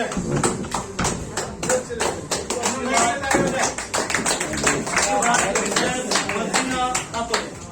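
Applause breaks out for a guest called up at a gathering in Sharjah, a dense, steady patter of many hands clapping close by with no voices over it.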